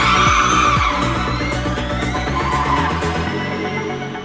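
A race car in a racing video game skids continuously as its tyres are heated, a loud sustained squeal over engine whine with gear and rev changes, fading out near the end.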